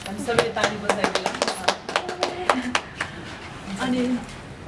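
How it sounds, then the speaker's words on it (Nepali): People clap hands at a small congratulatory ceremony with a gift presentation. The handclaps are scattered and sharp and are mixed with talking voices, loudest in the first half. "हामी सबै ताली बजाइदिला।"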